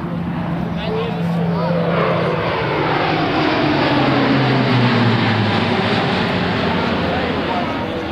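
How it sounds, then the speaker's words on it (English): A Lockheed C-130J-30 Hercules airlifter roars past in a high-speed 360-degree turn at an air national guard open house, a loud continuous propeller-engine drone that swells and shifts in pitch, with a voice talking over it. "you will see the C-130J approaching from the right for a high-speed 360-degree turn, approaching at some 300 miles an hour"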